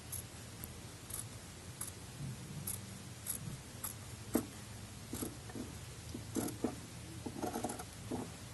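Scissors trim the seam allowance of fabric for a flat felled seam, quiet close snips and crisp cuts repeating irregularly over a faint background hiss.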